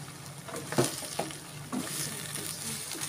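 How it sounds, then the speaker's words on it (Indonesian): Mustard greens hit a hot pan during a capcay stir-fry, giving faint sizzling with a few soft clattering stirs, quiet and close. "Kita masukkan sawi hijaunya."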